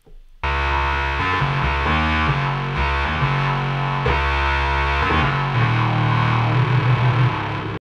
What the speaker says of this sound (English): Pretty cool bass sound there from the bass station.